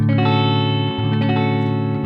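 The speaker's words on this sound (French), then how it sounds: "je vais vous mettre le son de la guitare à vide" A dry electric guitar strums steady sustained chords up close, with no obvious effects coloring the tone.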